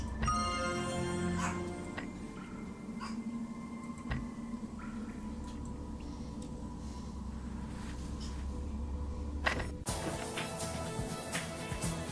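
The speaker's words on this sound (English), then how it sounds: "that's my dog Bloop that's barking in the background" A pet dog barks faintly in the background, with a few distant yips and bow-wows under video game sound from Dungeon Fighter Online.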